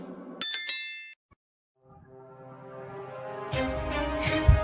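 A bright bell notification sound effect rings out with a quick cluster of sharp metallic dings, then gives way after a short silence to ringing chime-like tones that build in loudness.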